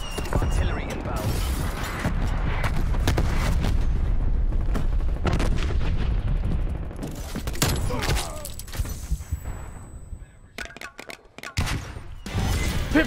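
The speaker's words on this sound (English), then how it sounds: "Artillery inbound." Artillery strike in Call of Duty: Black Ops Cold War: loud, sustained rumbling blasts and crackling bursts that fade into sharper separate impacts, with voices talking over the din.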